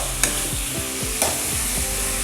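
Chicken being stirred into masala in a pan for a Kerala-style chicken stew, a steady scraping and sizzling with two sharper clatters of the spoon against the pan, no voices.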